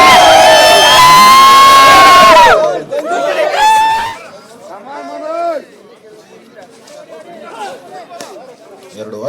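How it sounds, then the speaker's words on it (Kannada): Crowd at a police sports event bursts into loud cheering and whooping for the first few seconds, then settles into a busy murmur of chatter and scattered shouts. "ಮೊದಲು ಮುಟ್ಟಿದ ಸದ್ದು ಗದ್ದಲ, ಹರ್ಷೋದ್ಗಾರ"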